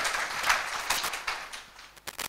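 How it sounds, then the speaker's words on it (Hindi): Audience clapping at a career counselling and guidance session for students and parents, a fairly soft, steady patter that thins out toward the end into a few scattered final claps. "ताली बजाओ बहुत जोर से ताली बजाओ।"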